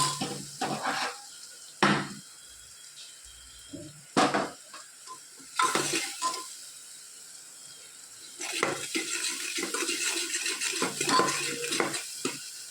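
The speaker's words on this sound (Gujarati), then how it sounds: "લાલ મરચું, હળદર, ગરમ મસાલો, સ્વાદ અનુસાર મીઠું. સરસ બધું આપણે મિક્સ કરી લઈએ." A spoon stirs red chili, turmeric, garam masala and salt in a pan while making vada pav. It gives intermittent scrapes and clinks against the metal under a faint sizzle, close up and with no talking.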